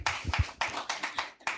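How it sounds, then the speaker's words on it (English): Bursts of hand clapping from a conference audience at a technology conference, uneven and rippling in several surges, fairly close and moderately loud with no talking. "A round of applause for me."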